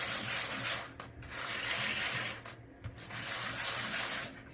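A piston ring from a Honda CB750 turbo engine build is rubbed on sandpaper in close, rasping back-and-forth strokes, about four passes with short pauses between them.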